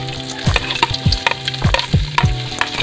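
Sliced onion, garlic and ginger fry in cooking oil, with a soft background sizzle punctuated by regular scraping knocks of a utensil stirring against the pan. Light music plays underneath.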